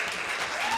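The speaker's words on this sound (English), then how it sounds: "I'll give you a round of applause." Brief burst of audience applause, dense clapping from a small group that is heard for under a second.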